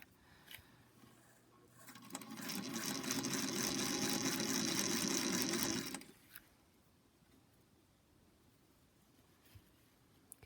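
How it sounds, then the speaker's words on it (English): Sewing machine running steadily for about four seconds as a line is stitched across a quilt with ribbon, a continuous mechanical whir that rises and then stops abruptly, with quiet room tone before and after. "so I can start to actually slowly sew my line"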